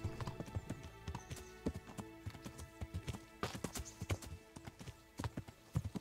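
Horse hooves clip-clopping along in the medieval game Kingdom Come: Deliverance, a steady run of sharp, close knocks with a faint whinny mixed in.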